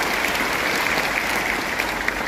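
Steady, dense applause from a large audience at a university doctoral graduation ceremony in Indonesia, a continuous wash of clapping with no pauses.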